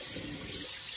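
Kale leaves dumped into a sink of warm water for washing, giving a brief steady splashing and running-water wash, close and alone with no talk.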